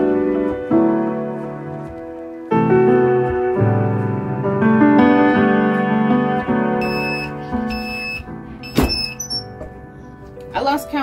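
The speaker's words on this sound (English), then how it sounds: "I'm gonna let it beep for 10 seconds and then bust it out." Close by, a heat press timer in a sublimation setup gives out a series of short, high, shrill beeps over a steady humming tone, with brief clunks in between.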